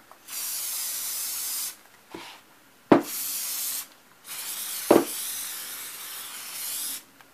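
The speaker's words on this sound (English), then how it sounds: "I sprayed the ribbon." Spray can hissing onto a glittered ribbon for a paperclip holder craft, in three long steady bursts separated by short pauses and light rubbing clicks, close and clear with no speech.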